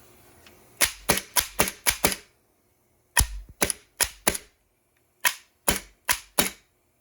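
3D-printed semi-automatic HPA Nerf blaster with a leaky grip fitting firing, sharp loud pneumatic cracks in three quick volleys of four to six shots, close with no talk.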